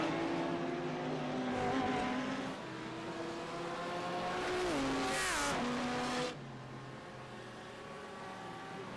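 GT3 race cars, an Audi and a BMW, circling the Long Beach street circuit in a sim racing game, engines droning steadily with rising and falling gear changes and a brief squeal, continuous and fairly close.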